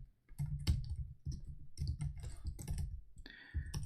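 Computer keyboard typing while writing PHP code: quick irregular key clicks in short bursts and pauses, fairly quiet and close, with no talking.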